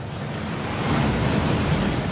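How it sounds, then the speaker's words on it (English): Waterfall at the Gringotts vaults in Hogwarts Legacy: a loud, steady roar of rushing, crashing water that fills the scene without pause or other sounds. "That waterfall washes away all enchantments."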